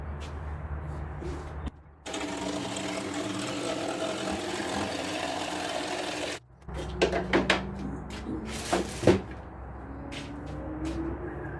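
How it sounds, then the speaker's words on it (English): A cordless jigsaw cuts through a replacement coffee table top. A loud buzzing run of cutting stops abruptly after about four seconds, and clunks and rattles follow as the saw is set down. "I'm just gonna cut it with my Azito Power Exchange jigsaw"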